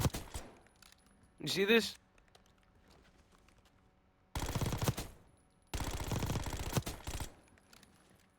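Automatic weapon fire in Black Ops 6 comes in two loud, sustained bursts of rapid shots, with a brief spoken remark earlier and quiet gaps between the volleys.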